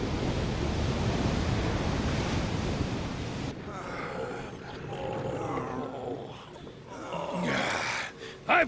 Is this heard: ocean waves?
yes